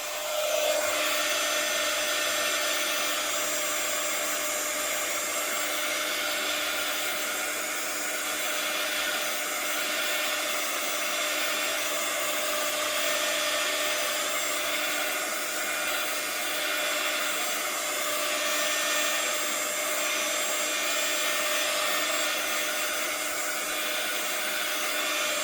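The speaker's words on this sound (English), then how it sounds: "now what I'm going to do is I'm going to dry this off to make sure the ink is dry for the last step" Hair dryer blowing continuously to dry ink on paper, a steady close whooshing hum with a faint whine that holds level throughout, no talking.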